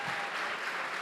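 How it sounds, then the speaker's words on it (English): Applause at a Weslaco city commission meeting honoring public works staff, a brief steady burst of clapping from the room, moderately faint and without talk over it. "So a round of applause for all our individuals."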